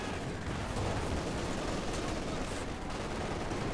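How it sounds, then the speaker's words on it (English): A Panzerwerfer rocket artillery barrage in Company of Heroes 2, a dense, loud wash of overlapping blasts and crackling gunfire with no pauses. "The Panzerwerfer barrage does nothing."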